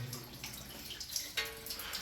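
Water runs from a tap in a bathroom, a quiet, steady wash that continues throughout with a few faint drips and clinks.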